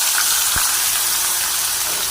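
Boiled vegetable stems drop into hot oil tempered with black cumin and a dried red chilli for a vegetarian yam-stem dish, setting off a loud, continuous hissing sizzle that fills the whole moment.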